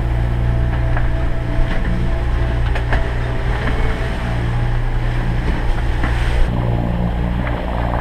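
A boat cruises along the northern coast of Trinidad. A steady low engine drone runs under wind buffeting and rushing water, constant and close for the whole stretch.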